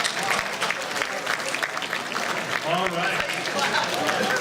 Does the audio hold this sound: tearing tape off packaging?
no